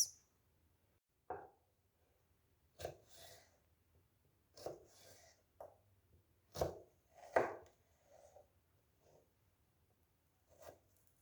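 Knife chopping cucumber on a board, heard as sparse, close, crisp cuts that come singly or in short pairs, separated by quiet pauses.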